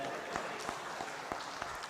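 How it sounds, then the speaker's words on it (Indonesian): Audience clapping at a comedy roast event, a steady continuous round of applause with scattered sharper claps, moderately loud and somewhat distant, with no talking over it. "Boleh tepuk tangan, jangan ragu-ragu."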